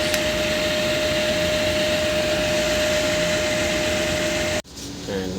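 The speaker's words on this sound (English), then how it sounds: "now ink is initializing" An Epson 3210 inkjet printer running its ink initialization, a loud steady motor drone with a constant tone that cuts off abruptly near the end.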